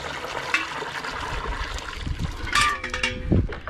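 Water pours steadily into a container of fresh chicken manure, a continuous splashing gush with a few louder sloshes near the end.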